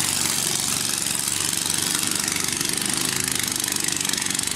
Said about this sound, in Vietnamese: những cái chiếc vỏ lãi nhỏ mà gắn động cơ chạy các bạn không?